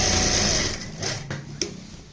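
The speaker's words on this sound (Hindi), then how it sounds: "यहाँ पे हम इस तरीके से सिलाई लगाएंगे।" Sewing machine running steadily while stitching a salwar bottom hem design with anchor thread, loud and close, then slowing and stopping with a few faint clicks near the end.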